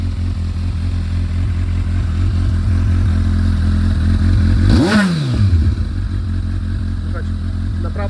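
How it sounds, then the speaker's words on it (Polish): A 2008 Honda CBF 1000SA stands idling without dB killers in its exhausts, giving a steady, fairly subdued low throb, while another vehicle sweeps past midway with a rising then falling whoosh. "nie są bardzo głośne te wydechy, pomimo, że nie mają DB killerów."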